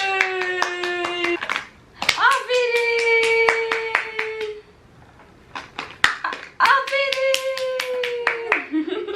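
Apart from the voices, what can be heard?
hands clapping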